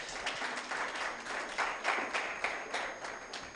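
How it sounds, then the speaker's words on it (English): Audience applause welcoming a panelist at a Kenyan moot court event, broad steady clapping from a crowd that holds for several seconds without a break. "let's all welcome Isabella Obara with hearty claps"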